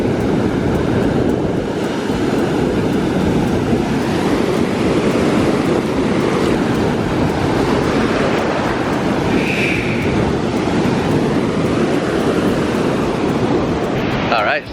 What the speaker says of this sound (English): The ocean is quite strong here, and that is the Arabian Ocean.